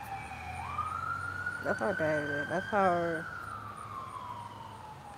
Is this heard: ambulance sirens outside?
yes